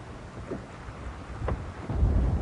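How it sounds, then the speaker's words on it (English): Gusty wind buffets a boat on a lake during a smallmouth bass fishing trip, a low rumbling roar that swells in bursts and grows louder toward the end, with no voices. "Blow, you stinking wind."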